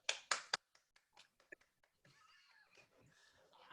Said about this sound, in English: I don't mind clapping by myself.